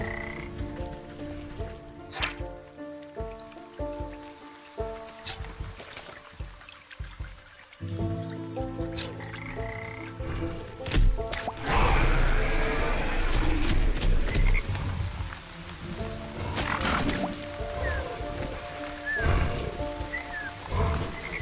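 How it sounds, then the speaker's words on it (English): Frogs croak repeatedly in the video game Wytchwood, a series of throaty calls layered over a busy woodland game soundscape with music and other ambient effects. "Come here, froggies."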